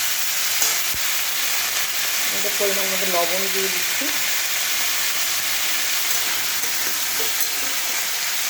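Cauliflower and mixed vegetables fry in a pan for chire polao, a constant loud sizzling hiss that runs throughout, with someone speaking briefly over it as salt goes in.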